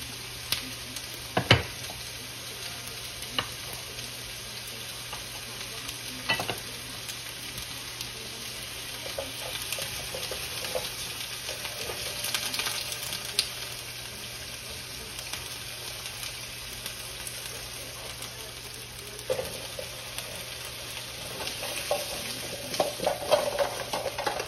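Sausage sizzles steadily in a warming pan, a continuous low frying hiss with a few sharp pops and clicks scattered throughout, heard alone without talk.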